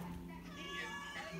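A house cat meows a few times indoors, its cries close and rising over a steady background hum while a person speaks.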